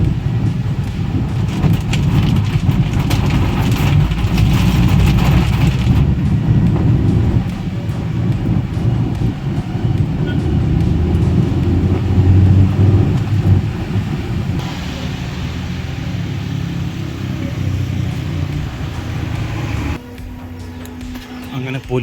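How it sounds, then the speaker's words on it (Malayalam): Heavy rain drums steadily on a moving Maruti Suzuki Zen, a dense broadband wash with low road and engine rumble underneath for the whole stretch, dropping slightly near the end. "നല്ല മഴയാണ്"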